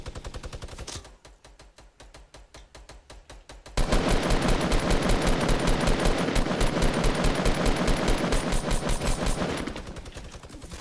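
A minigun in the Fortnite video game fires rapid, sustained bursts. A quieter rattling stretch swells into a dense, loud roar of continuous gunfire that keeps going without pause.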